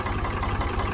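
A Ford 3000 tractor engine idles at low speed, giving a steady, close, rhythmic diesel chug with even low pulses throughout the second and no talk.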